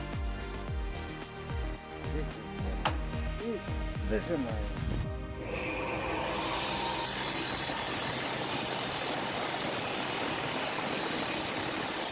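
A homemade firewood machine with raw, unguarded steel and spinning teeth runs loud and close, a rapid ratcheting mechanical clatter that gives way partway through to a dense, steady roar of grinding and engine noise.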